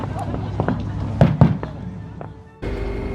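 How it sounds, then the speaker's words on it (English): Fireworks boom in a few sharp bursts over Hobart harbour, heard from a tall ship, amid crowd chatter and cheering voices, then a steady rumble of explosions continues toward the end. "Wow, the firework has just started."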